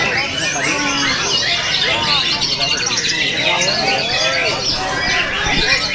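Many birds chirp and warble together at a songbird competition, dense overlapping calls filling the air with a murmur of people in the background.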